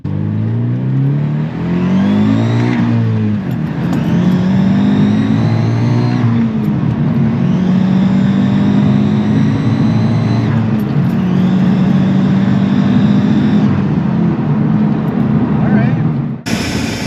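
Turbocharged, air-suspension 2015 Scion FR-S engine revs and accelerates loudly and close by, pitch climbing in repeated long pulls with brief drops between them.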